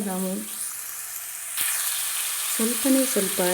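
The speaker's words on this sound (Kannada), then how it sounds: "ಈ ರೀತಿ ಈರುಳ್ಳಿಯನ್ನು ನಾವು ಒಂದು 5 ನಿಮಿಷಗಳ ಕಾಲ ಚೆನ್ನಾಗಿ ಫ್ರೈ ಮಾಡ್ಕೋಬೇಕು" Onions frying in a pan for a sweet pumpkin palya give off a steady, close broadband sizzle with one sharp clack midway, while a voice talks briefly at the start and again near the end.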